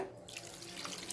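Water is poured from a tumbler into a pressure cooker holding rice and jaggery for coconut jaggery kali, a short, steady splashing pour heard close up.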